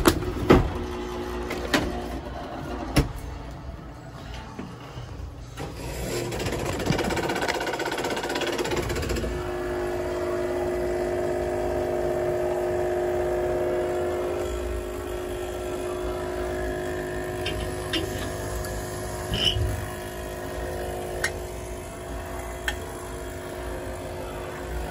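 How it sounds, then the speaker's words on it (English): A faulty circulator pump on a Buderus boiler runs with a steady mechanical hum and whine, joined by intermittent clanks and knocks, heard close up throughout. "Pump don't sound too healthy."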